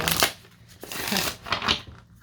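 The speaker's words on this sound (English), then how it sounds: "These cards are so huge that I have to split it just to shuffle it properly." Large oracle cards being shuffled up close, split into halves, giving several quick papery riffles and slaps in short bursts with pauses between.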